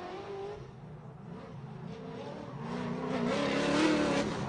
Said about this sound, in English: Matt Powers, Team Need for Speed, Nitto Tires, ACT Clutches, VA-powered S14